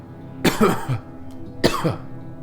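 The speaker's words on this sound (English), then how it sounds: "There's my first cough." Two separate coughs, the first a short double burst, the second a single harsh hack, close and fairly loud.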